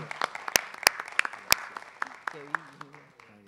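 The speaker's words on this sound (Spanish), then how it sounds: "despedimos a nuestro conferenciante del día de hoy con otro aplauso" Scattered applause from a lecture audience sending off the day's speaker, a few sharp nearby claps standing out, then thinning as a voice starts talking over the last claps.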